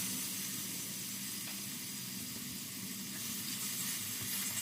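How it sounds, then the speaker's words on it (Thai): Coconut cream sizzling in a pan as it is stir-fried with curry paste, a steady, moderately faint hiss of frying that continues throughout with no voices. "ผัดไปเรื่อยๆ ให้กะทิแตกมันและเข้ากับพริกแกง"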